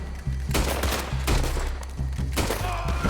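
Rapid gunfire from the Western game Red Dead Redemption 2: a loud volley of sharp shots, several close together, with echoing tails and no talk.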